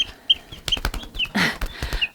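Cornish cross chickens clucking and peeping nearby on a farm, a scatter of short, chirpy calls coming in bursts over a low background rustle.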